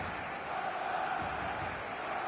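A large football match-day crowd in a video game, a dense, steady roar of massed voices that holds at an even level throughout.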